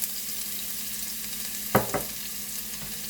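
Garlic cloves and asafoetida fry in hot oil with cumin for a zucchini curry, giving a steady sizzle and two sharp clatters near the middle from a stir or ingredients dropping into the pan.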